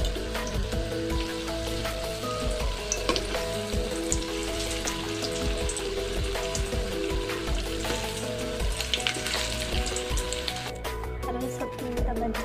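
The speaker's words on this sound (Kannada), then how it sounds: "ಚೆನ್ನಾಗಿ ಫ್ರೈ ಆಗ್ತದೆ." Bajji made from arave greens frying in hot oil, a dense, steady crackling sizzle that runs unbroken and fairly loud throughout, with no talking.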